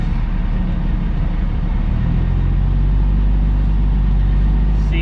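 A semi truck's diesel engine rumbles steadily at low idle while backing up, a continuous close, heavy drone with a slight rise in revs partway through.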